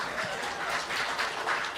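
Applause from a stand-up comedy audience, a soft, steady wash of many hands clapping heard from a distance, rising and falling slightly throughout.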